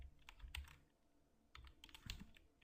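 Typing on a computer keyboard: faint, close keystrokes in two short irregular bursts separated by a brief pause.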